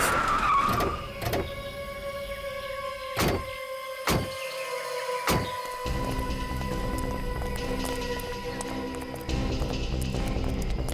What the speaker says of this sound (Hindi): ठीक है, गाड़ी यहीं रोक।